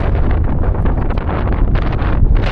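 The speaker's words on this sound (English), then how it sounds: "it's very windy today" Strong wind gusts of 70 to 90 kilometers an hour in Argentina buffet the microphone in continuous rumbling gusts, loud and close, with no other sounds standing out.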